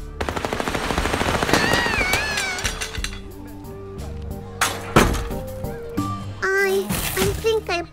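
Rapid gunfire from real bullets in the video game Little Misfortunes, dense and loud at first, then scattered shots and bursts mixed with game music and a voice.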